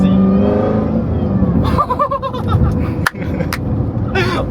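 Corvette C7 Z06 engine revving with supercharger whine, a loud close rising drone that swells and drops, with a sharp transient midway and excited voices in the background.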